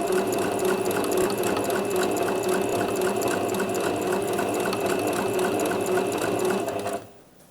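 Sewing machine stitching a crocheted popcorn-square bag, running steadily and close for about seven seconds in a continuous whirring drone before stopping abruptly.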